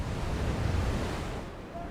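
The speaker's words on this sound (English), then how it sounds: "the ocean collides with a remote peninsula" Ocean surf breaking on the northeast coast of a remote Patagonian peninsula, a soft broadband wash of waves mixed with wind buffeting the microphone, steady and fairly faint, fading slightly toward the end.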